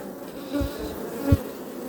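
Honeybees buzzing on a brood frame from an open hive, a steady close insect drone with two louder swells as bees pass near, no talking.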